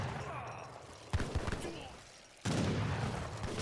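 Musket volleys from an Age of Empires 3 battle between British and Ottoman armies crackle as dense, overlapping gunfire in a sustained fusillade, with a sharper burst partway through and a loud resurgence near the end, mixed with game battle noise.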